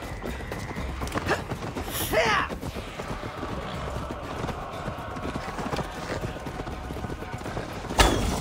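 Horse hooves clip-clopping in Assassin's Creed Valhalla during the siege of Paris, with a steady galloping patter over game ambience and a sharp louder hit near the end.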